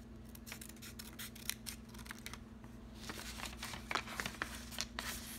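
Scissors cut lines out of paper in a quiet room, making a string of faint crisp snips and rustles in an uneven rhythm, closely heard with no talking.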